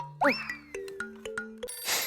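Repeated short electronic chimes sound in an even rhythm, like a phone call ringing out, ending in a hiss.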